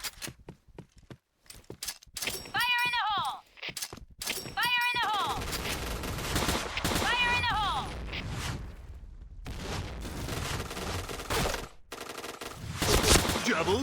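Bursts of STG44 assault rifle fire in the shooter game Point Blank, repeated sharp volleys with echoing gameplay effects, footsteps and movement, and a voice talking over the shooting.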